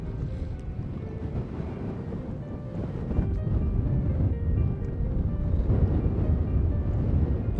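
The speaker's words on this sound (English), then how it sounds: "the wind is gusting over 40 miles an hour and continuous winds 20 to 25" Strong gusting wind over a lake buffets the microphone with a loud, low rumbling roar that swells and intensifies partway through, continuous with no speech.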